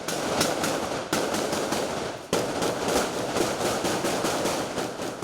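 Gunfire from a police shootout with a criminal at a surrounded house in Nova Iguaçu, Rio de Janeiro state, comes as dense, loud, crackling bursts of rapid shots, with two abrupt sharper onsets.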